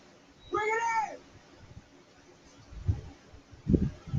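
A house cat lets out one clear, harmonic meow close by, then a few low thumps and rustles follow in an otherwise quiet indoor room.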